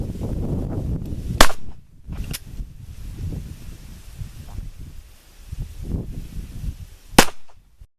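Three sharp .380 pistol shots from a Ruger LCP Max crack at irregular intervals into homemade body armor, with rustling and shuffling noises between them and no one talking.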